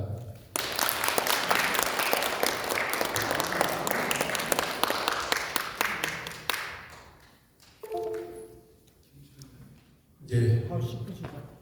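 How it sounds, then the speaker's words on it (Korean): An audience at a civic forum applauds after a presentation, a loud burst of clapping that fades after several seconds, followed by a voice speaking and a short second swell of claps. "그 훌륭한 발표해 주신 우리 교수님께 큰 박수 부탁드립니다"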